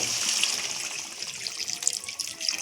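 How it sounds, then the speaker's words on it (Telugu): Water pours steadily into a pan of chicken curry, a continuous splashing trickle up close with no talking. "ఈ కప్పు నిండా నేను వాటర్ వేస్తున్నా అంతే"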